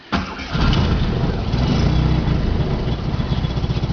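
A small Fiat Cinquecento engine with a replacement Fiat 126p carburettor cranks and catches, then settles into a steady, close, even, quiet idle with a low rumbling hum.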